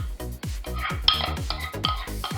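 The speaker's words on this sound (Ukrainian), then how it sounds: "І все ретельно вимішуємо і можна їсти." Crab stick salad with canned corn and mayonnaise being stirred in a bowl, with a steady run of close, rhythmic spoon scrapes and clinks against the dish and no talking.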